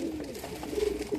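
Madras pigeons scuffling over food give a brief, close coo with a wavering throaty tone and a few soft flutters, with no voices.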